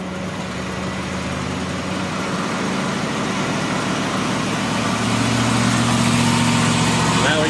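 A high-mileage Ford Crown Victoria engine idling and then building revs for a brake stand burnout, a steady low rumble that grows louder and rises in pitch toward the end.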